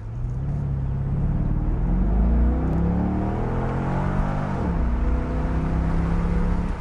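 A 2004 Corvette engine winds up loudly to about 6,000 RPM. The pitch rises steadily, dips briefly as the automatic shifts at redline, then climbs again under a constant roar.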